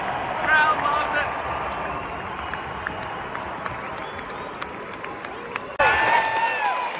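Hockey crowd roaring at a Canucks game in Vancouver during a fight on the ice, a dense, continuous wash of cheering filling the arena, with a commentator's voice over it and a sharp louder burst near the end.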